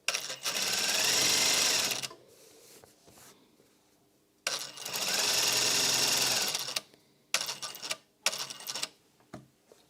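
A sewing machine stitches a pleated fabric face mask in two long steady bursts of fast whirring, followed by a few short stop-start runs and quiet pauses, no talking.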